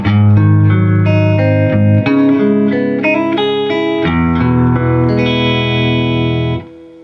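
An electric guitar played through a Fender '65 Princeton Reverb reissue amp with reverb up, a loud sequence of sustained chords and ringing notes that ends with a decaying tail.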